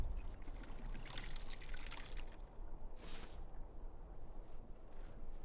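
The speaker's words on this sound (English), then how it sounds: "So I should probably refill my water skins." Water skins being refilled in Skyrim give a steady, close pouring and trickling of water, with a brief second splash of flow partway through before it settles into a softer stream.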